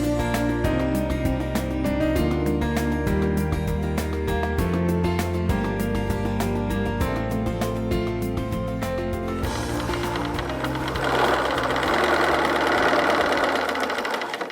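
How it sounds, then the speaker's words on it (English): A Bernina sewing machine about 20 years old stitches at a fast, steady mechanical rhythm, close up and fairly loud. The pitch changes near the end as the speed varies. "This is my beloved Bernina sewing machine."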